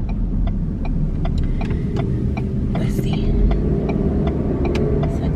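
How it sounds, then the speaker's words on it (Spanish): Busy town road traffic heard from inside a moving car, a continuous mid-low engine and tire rumble with a regular ticking like a turn signal over it, while a person speaks briefly. "Ahorita está todo lo que da el tráfico aquí."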